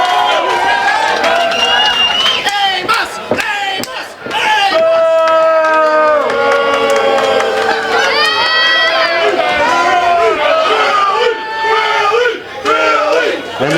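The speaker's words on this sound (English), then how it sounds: "And the crowd wants Billy to get into this main event" A wrestling crowd at a live Shockwave show cheers and shouts loudly and steadily throughout, with excited voices and yells rising over a dense roar and a commentator talking across it.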